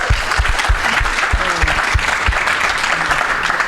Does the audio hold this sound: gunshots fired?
no